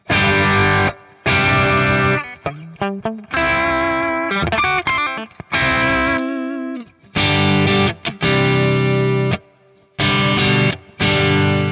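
Electric guitar through a very low-gain Tweed amp profile on a Kemper, playing loud bursts of strummed chords and short riffs separated by brief silences, the tone slightly driven and rich in harmonics.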